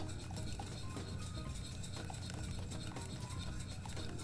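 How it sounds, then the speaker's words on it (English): A spoon stirs turkey drippings gravy in a pot as it thickens, making a steady run of soft scraping taps and clicks at close range, with no talk. "while we're adding this, we want to continue to stir"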